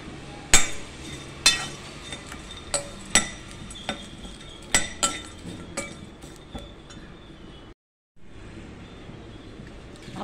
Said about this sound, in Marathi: आता आपण काजू भाजून घेतोय।